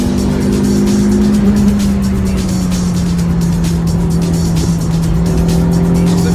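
A Honda CRX with a D16A9 engine accelerates and revs, a loud, steady engine drone with a slowly shifting pitch and constant road and tire noise throughout.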